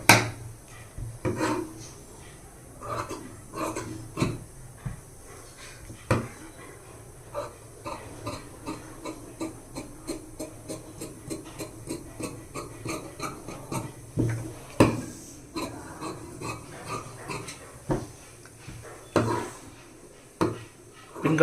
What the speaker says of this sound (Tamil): இப்போ நம்ம இதை கட் பண்ணி எடுத்துடலாம்